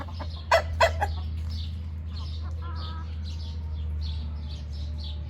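Turkeys and chickens clucking outdoors by a coop, a few sharp calls early on, then softer scattered clucks over a steady low hum.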